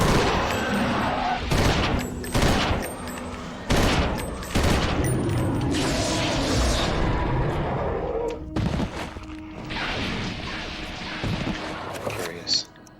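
Repeated bursts of gunfire in the Eternal Darkness video game crack out loud and close in uneven clusters, with a voice talking underneath.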